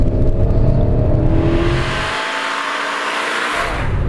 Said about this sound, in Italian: con un motore Ferrari